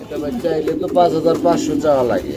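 Low, throaty pigeon coos repeat close by in soft rolling bursts over a couple of seconds.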